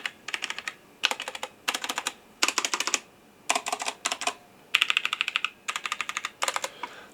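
Bursts of rapid clicky typing on a Roccat Vulcan 121 mechanical keyboard with brown switches, close and crisp, in several separate runs with short pauses between.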